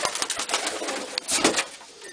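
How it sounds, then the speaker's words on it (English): Pigeons coo in low, soft, repeated murmurs close by, with light rustling and a brief flutter of wings in a nest area. "look how big this pigeon is"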